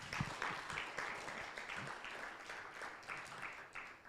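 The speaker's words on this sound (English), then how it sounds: "I think she deserves a better clap." Audience applause at a launch event for manufacturing SMEs, a moderate, uneven patter of clapping from a modest crowd that holds steady for several seconds.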